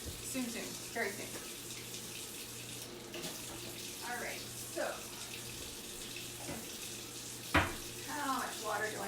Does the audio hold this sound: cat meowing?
no